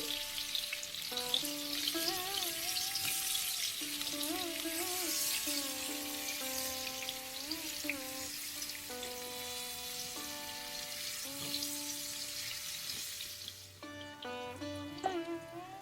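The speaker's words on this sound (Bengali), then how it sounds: "সেদ্ধ করে রাখা আলুগুলো দিয়ে মিডিয়াম আঁচে আলুগুলোকে একটু সময় নিয়ে বেশ ভালো করে ভেজে নেব" Boiled new potatoes fry with turmeric in mustard oil over medium heat, giving a steady, even sizzle that runs the whole stretch beneath a background music melody.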